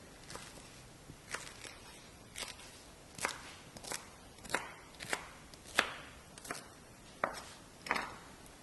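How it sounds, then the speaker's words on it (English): A knife chops choy sum into 3 cm pieces on a board, about a dozen distinct thuds at an uneven, unhurried pace, close and fairly quiet, with no talking. "I will start by cutting the choy sam into 3 cm pieces."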